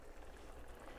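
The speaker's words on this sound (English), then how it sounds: "See that bubbling away?" Shakshuka of tomato sauce with eggs bubbling in a pan, a soft, steady simmering crackle, faint and close, with no talk.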